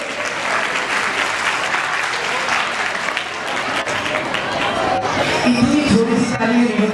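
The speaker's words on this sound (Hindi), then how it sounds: "जितने भी हमारे स्पॉन्सर हैं अगर एक मरतबा उनके लिए तालियां हम बजाएं" An audience at a World Teachers Day children's expo in Karachi applauds the sponsors, a dense, steady wash of clapping that lasts the whole stretch, with a few voices and a brief louder sound near the end.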